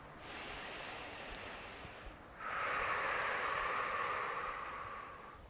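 Deep, slow breathing close to the microphone: a long airy inhale followed after a short pause by a stronger, fuller exhale, with no talking.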